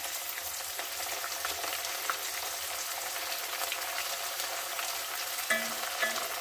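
Chopped tomato pieces frying in a pan for a lentil dal curry, a continuous close sizzle with stirring clatter and a few brief utensil knocks near the end, no voices.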